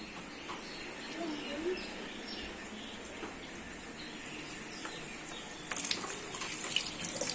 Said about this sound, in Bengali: তেলের মধ্যে বড়া ছাড়া হচ্ছে